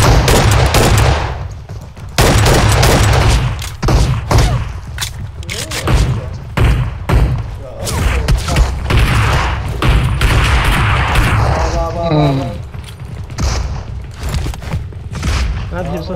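Gunfire from the video game PUBG Mobile crackles in dense bursts and rapid automatic volleys with booming thuds, loud and close, while players talk excitedly over it.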